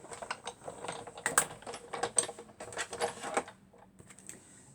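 A die-cutting machine cranks a Magic Mat plate and die through its rollers, giving quick mechanical ratcheting clicks in an uneven rhythm, close and moderately loud with no speech.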